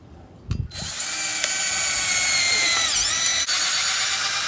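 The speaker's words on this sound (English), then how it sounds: "So I'm just gonna hold the nut and tighten it down with the screwdriver." A screwdriver drives a zinc-coated screw into a stainless steel lock nut while fitting a replacement tool handle. After a brief knock, a steady whining motor hum sustains with a slight pitch dip near the end.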